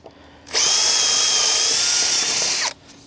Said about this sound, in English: we'll get the drill. Then we're just going to go through and use this auger bit. It's a 13 mil